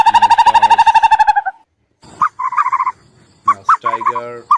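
Loud, close turkey gobbling in a rapid rattling burst, followed after a brief pause by several shorter fowl calls and hoots, with no talking.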